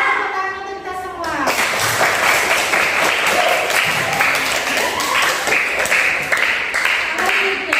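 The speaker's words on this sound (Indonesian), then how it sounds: "Tepuk tangan untuk kita semua." A group bursts into loud, sustained clapping after a brief voice at the start, dense applause running steadily to the end with a few children's voices mixed in.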